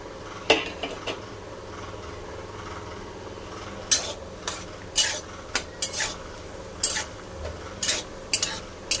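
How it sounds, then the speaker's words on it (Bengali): Peanuts fry in hot mustard oil for a pumpkin and potato curry: a quiet steady sizzle is punctuated by sharp metal spatula clinks and scrapes against the pan, mostly in the second half, with no speech. "সরষের তেলটা দিয়ে দিলাম, গরম হয়ে গেছে। এবার আমি একটু বাদামটা ভেজে নেব।"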